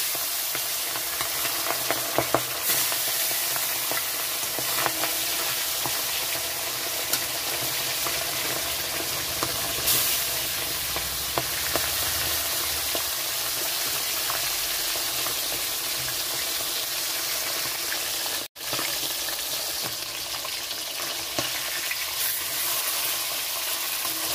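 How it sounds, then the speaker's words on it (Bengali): Bele fish frying in hot mustard oil in a wok, a steady continuous sizzle with faint crackles running throughout, close and fairly loud with no voices. "তো মাছটা ছেড়ে দিচ্ছি ভাজার জন্য।"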